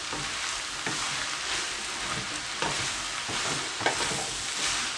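Chicken vegetable noodles fry in a hot pan with a steady, close sizzle and occasional stirring scrapes across five seconds, no voices.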